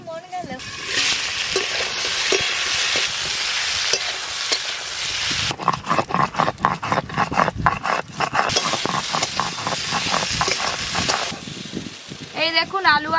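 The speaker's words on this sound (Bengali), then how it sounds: "আলু আর পটল লাল লাল করে ভাজা হয়ে গেছে" Diced potatoes and pointed gourd sizzling and frying in a pan, a steady loud crackle with stirring scrapes in the middle and a brief voice near the end.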